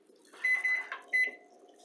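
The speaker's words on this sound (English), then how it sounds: "That's the timer." A kitchen timer beeps in a home kitchen, three short, clear, loud electronic tones over a quiet background.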